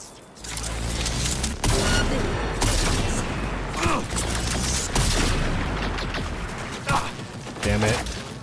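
Heavy gunfire in Cyberpunk 2077, dense loud bursts and booms with sharp cracks layered over a constant rumble, a voice shouting briefly in the mix.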